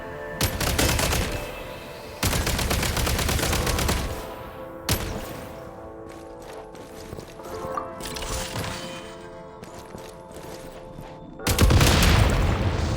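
Gunfire and explosives blowing up in a Shadow Realm stretch of Genshin Impact: loud bursts of shots and booms in three heavy clusters, separated by quieter stretches of mechanical game sounds and a steady musical drone.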